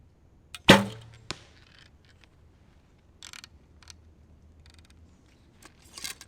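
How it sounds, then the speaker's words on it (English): An Easton X10 Parallel Pro 3.2mm arrow is shot from a tuned bow: one sharp, close snap of release with a quick thud, then faint rattles and clicks afterward. "Bow sounds happier, arrows are already flying better."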